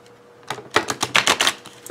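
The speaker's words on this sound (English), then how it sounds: "So you're not limited to shuffling only one way with these cards." Tarot cards are shuffled by hand in a quick burst of crisp, rapid riffling flutters, close and clear, after a brief quiet start.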